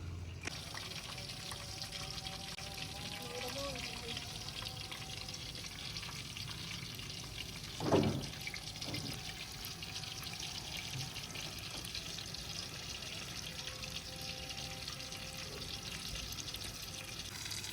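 Samosa rolls fry in oil with a quiet, continuous sizzle and bubbling that runs throughout, broken by one brief louder clatter midway. There is no talking.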